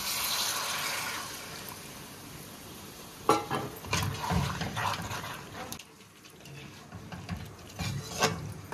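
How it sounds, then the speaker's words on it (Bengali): Water from a spice bowl is poured into a pan of restaurant-style chicken kosha, a rushing, splashing pour that swells in bursts against a steady background hiss, close and fairly loud, with no talking. "এবার মশলার বাটিতেই নিয়ে নিয়েছি জল, সেই জল দিয়ে দিচ্ছি"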